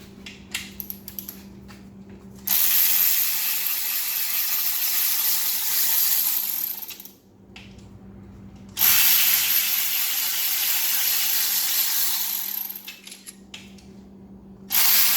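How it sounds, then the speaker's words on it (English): Power tool or air-driven wrench loosening bolts on the LT5 supercharger of a 2019 Corvette ZR1, with two long, loud, steady whirring runs of several seconds each, broken by a short quieter gap and a low background hum. "Start loosening the bolts."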